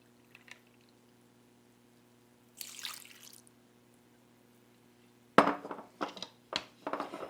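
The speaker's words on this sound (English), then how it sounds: "this is some homemade almond milk, but just unsweetened almond milk, and we're doing about a 1/2 cup" Unsweetened homemade almond milk is poured into a measuring cup, a short soft gurgling pour followed later by a few louder clinks and splashes nearby in a quiet kitchen.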